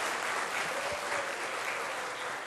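A church congregation at a Sunday service breaks into loud, dense applause, a steady wash of many hands clapping together throughout.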